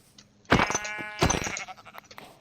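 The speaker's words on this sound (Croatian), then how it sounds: "to ovca?" Sheep bleating in the Minecraft survival game: two loud, wavering bleats about half a second apart, standing alone without any talk.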